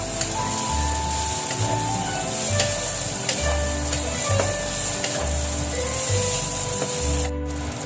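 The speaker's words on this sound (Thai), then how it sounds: "ถ้าผัดกากนั่นก่อนครับ ผัดกากให้มันสุกก่อนครับ" Kale stems stir-fried for Chinese sausage fried rice, a continuous sizzle with repeated rhythmic low scraping strokes of the spatula and a few clinks.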